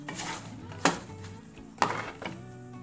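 Ingredients for green pipián being stirred in a cooking pot, with a spoon scraping and two sharp metallic clanks against the pot rim, close and moderately loud, no talking.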